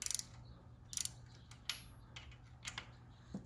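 Ratchet snugging a PCV valve into the aluminum cylinder head of a Toyota Corolla, several quiet close clicking bursts of the pawl, separated by short pauses, with faint metallic handling noises between.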